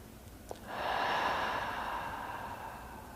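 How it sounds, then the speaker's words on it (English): A single slow, soft breath drawn near the mic in a quiet room, a gentle airy rush that swells and then tapers off for a few seconds, with no talking. "And I just breathe into my hand."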